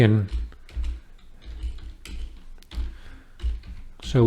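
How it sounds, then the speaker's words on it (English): Keys clatter on a computer keyboard in a run of close, uneven taps and thumps, with brief pauses between bursts and a voice heard briefly at the start and end. "I'm going to keep typing here."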